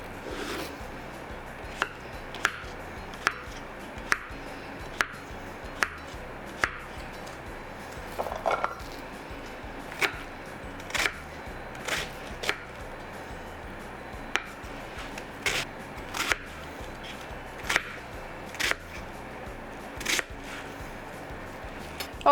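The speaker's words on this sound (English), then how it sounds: "I'll also chop up my cabbage and my zucchini and set it aside" A knife chops carrots, cabbage and zucchini on a board, sharp distinct knocks at a steady rhythm, then quicker clustered cuts, close up with light kitchen clatter and no talk.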